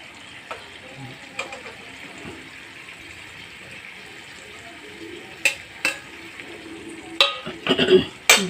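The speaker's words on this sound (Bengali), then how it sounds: "দিয়ে দিচ্ছি দুটো চেরা কাঁচা লঙ্কা আর আমার আগে থেকে ভেজে রাখা চিংড়ি মাছ।" Fried prawns and slit green chillies go into a pan, bringing a soft simmering sizzle with a few sharp clatters and stirring bursts that grow louder toward the end.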